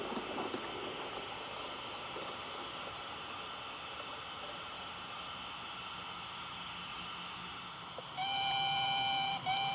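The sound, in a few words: model railway pickup goods train departing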